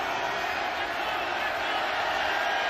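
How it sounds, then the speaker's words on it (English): A football stadium crowd at an XFL game swells into a loud, steady roar of mixed voices and cheers, distant and continuous for a few seconds. "You hear the crowd getting loud."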